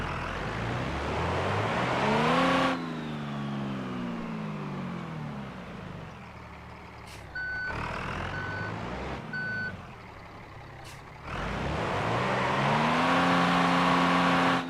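A car drifts in BeamNG.drive, its engine revving up and down in repeated sweeping surges. A steady electronic beeping sounds during a quieter middle stretch, then the loud revving returns.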